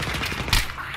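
Burst of automatic gunfire in the video game Battlefield 3, a loud, dense rattle with a sharper crack midway through, brief and busy.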